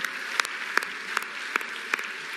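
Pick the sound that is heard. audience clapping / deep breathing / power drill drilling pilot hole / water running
audience clapping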